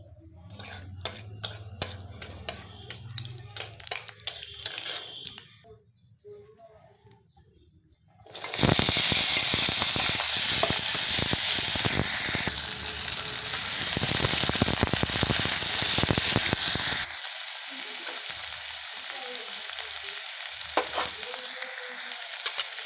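Black cumin and dried red chillies hit hot mustard oil with a loud sudden sizzle that roars steadily and then settles to a softer hiss. The sizzle follows a stretch of clinking utensil taps, with occasional spatula scrapes toward the end.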